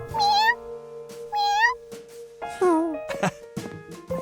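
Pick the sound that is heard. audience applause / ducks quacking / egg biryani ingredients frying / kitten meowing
kitten meowing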